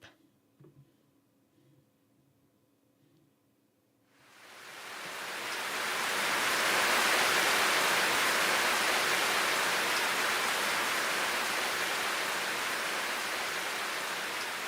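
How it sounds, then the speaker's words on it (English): Steady rain sound effect in the visual novel DramaticalMurder swells in after a quiet start into a loud, even wash of dense falling rain that holds without a break. "It started to rain."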